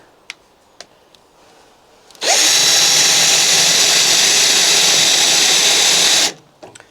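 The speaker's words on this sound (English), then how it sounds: "I'm just going to drill out all of the spot welds to get the old pieces of metal off" A power drill whines loudly and steadily for about four seconds drilling out spot welds on 1969 Porsche 911 body metal, bracketed by a few light clicks and taps before and after.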